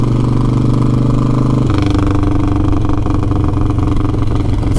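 A motorcycle being prepared for a rebuild idles loudly and close, a steady rumbling beat that shifts to a slightly rougher, busier tone partway through, with no voices.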